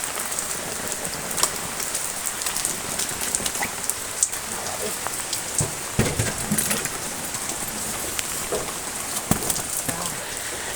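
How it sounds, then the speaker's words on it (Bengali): Heavy rain pours down in a dense, unbroken hiss, with scattered louder drops striking nearby surfaces. "বৃষ্টিতে আটকা পড়ে গেছি"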